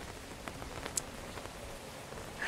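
Steady rain falling in a horror video game, an even hiss of dense drops with occasional sharper patters, continuous throughout with no speech.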